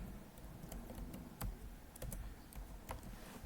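A password typed on a computer keyboard, heard as a run of irregular, light key clicks over a low background hum, close and quiet, with no talking.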